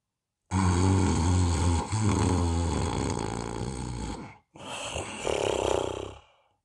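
A voice imitates loud snoring: long, rumbling, throaty snores, one stretched breath followed by a short pause and another snort.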